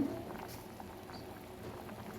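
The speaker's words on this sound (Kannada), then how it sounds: "ರಸಂ ಕುದೀತಾ ಇದೆ" Pot of rasam bubbling on the stove, a soft, steady low simmer with faint popping, quiet and continuous throughout.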